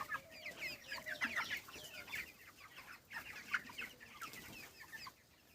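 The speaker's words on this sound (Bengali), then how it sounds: "আমার ফার্মে খড় দিয়ে মুরগি চাষ করি" Broiler chickens on a straw-bedded poultry farm in winter cluck and chatter in short, overlapping bursts, fairly faint, with several birds calling continuously and no talk.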